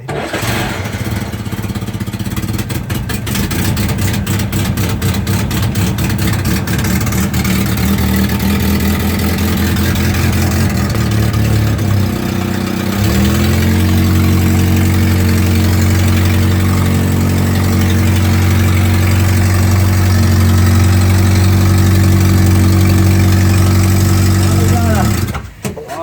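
A 1949 Jeep engine cranks and catches on a cold start, then settles into a steady, loud, close-up idle with a deep rumbling drone lasting over ten seconds, with no talk over it.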